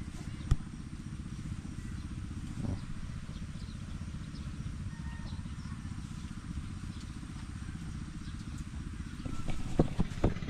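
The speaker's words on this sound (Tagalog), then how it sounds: "kung naririnig nyo mga sangga yung makina na umaandar" A water pump engine runs while draining a flooded vegetable field after Typhoon Carina, giving a faint, steady low chugging hum with a few light clicks and knocks.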